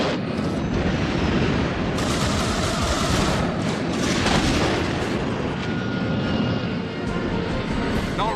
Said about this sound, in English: They're shooting closer.